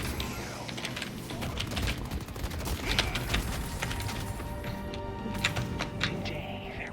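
Haze's gun in the video game Deadlock fires in a long, rapid automatic stream, steady and dense throughout, mixed with game effects and busy background noise.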